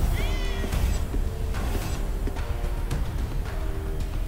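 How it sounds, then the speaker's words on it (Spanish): A cat in the video game Ghostwire Tokyo lets out several short, wavering meows over a dense, loud ambient game soundscape, with sparse ringing tones in the background. "Oh, mira el gato."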